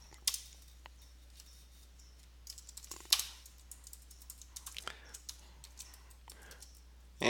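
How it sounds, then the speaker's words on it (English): Typing on a computer keyboard, a rapid run of sharp key clicks in uneven bursts with short pauses, close and fairly loud with no talking. "you're probably getting pretty tired of typing"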